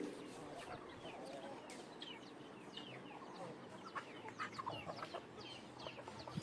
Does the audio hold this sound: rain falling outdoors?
no